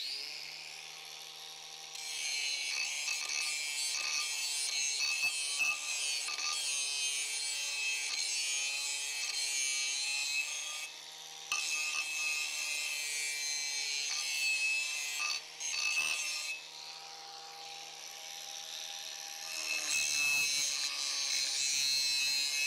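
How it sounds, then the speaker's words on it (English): A Bosch angle grinder fitted with an abrasive wheel grinds steadily on a 12-22 rifle part, making a high, continuous whirring rasp with brief dips where the wheel lifts off and then bites again. "I got a Bosch angle grinder, and then I got the abrasive wheel on there."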